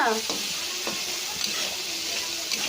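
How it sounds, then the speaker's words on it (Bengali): Coriander, chilli and turmeric powder fry in a pan while being stirred, giving a steady close sizzle with a few soft scraping strokes and no voices. "তো দেখো, মশলাটা বেশ ভাজা হয়ে যাচ্ছে।"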